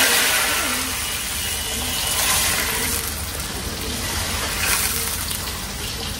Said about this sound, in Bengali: ডালটা না যত জোরে ছ্যাপ ছ্যাপ করে শব্দ হবে বাগারের